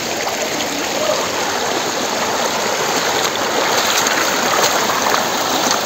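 Spring water streams steadily over rocks outdoors, a loud, close, continuous rushing and splashing that runs the whole time with no voices.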